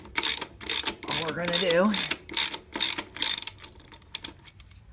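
Sharp rapid ratchet clicking in quick bursts loosens the 23mm rear wheel nut on a shaft-drive Honda Shadow motorcycle, close and loud, with a brief spoken voice in the middle.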